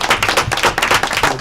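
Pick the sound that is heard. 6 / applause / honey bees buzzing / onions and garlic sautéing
applause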